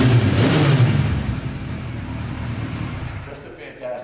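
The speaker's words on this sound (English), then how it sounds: "Bike fires right up, runs." A 1976 Kawasaki KZ900-A motorcycle starts and runs, its engine loud and close at first and then settling to a steadier running note that fades slightly toward the end, with no talking over it.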